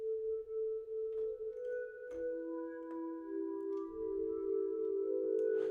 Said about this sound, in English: polyphonic synthesizer.